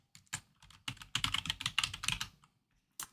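A computer keyboard is tapped in short clusters, close and clear, with a quick flurry of keystrokes in the middle, brief pauses between bursts and a lone final tap after a near-silent gap.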